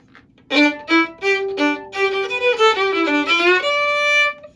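A fiddle bows a short melody of repeated notes at an unhurried pace, each note clear and sustained. It is close and plays without accompaniment.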